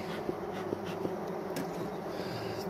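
Honeybees buzz steadily inside an opened, uninsulated hive, spread across the gaps between the frames. The hum is low and continuous, with soft knocks and faint handling noises from the frames.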